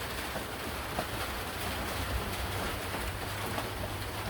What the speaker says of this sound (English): Actual legitimate rain, getting things wet, getting the ground wet.